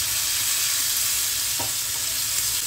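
Onion paste fries in a pan on a low flame after ginger and garlic for a paneer curry, giving a steady, close hiss of sizzling with faint stirring scrapes and no speech.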